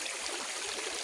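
Clear stream water runs steadily over stones, a continuous close hiss and gurgle with no break.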